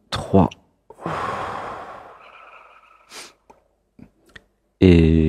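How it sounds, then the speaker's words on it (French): A deep breath taken during a guided breathing exercise, heard as a long audible inhale and exhale between short bursts of sound, with a louder voiced sound closing the clip. "on va faire une respiration"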